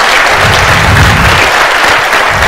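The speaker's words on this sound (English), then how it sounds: "So can we have a huge round of applause for him?" Loud, dense applause from an audience at a Python programming talk, continuous clapping throughout with no pauses.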